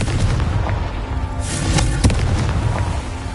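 A Confringo fire spell from Hogwarts Legacy bursts in a series of loud booming blasts and crackles, with one sharp pop near the end standing out above a rumbling low end.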